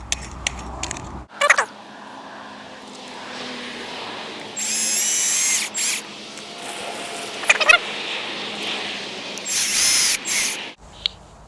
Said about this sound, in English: Then you need to change the drill to the screwdriver attachment.